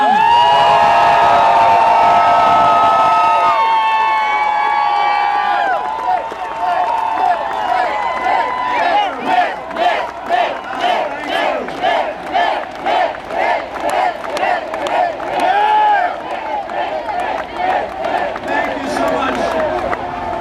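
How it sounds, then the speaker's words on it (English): Large crowd cheering and shouting at a Romney campaign rally in Warren County, Ohio, sustained loud roar with whoops and rhythmic chanting swelling after a brief introduction. "I'd like you to give a very warm Warren County welcome to the next President of the United States, Governor Mitt Romney"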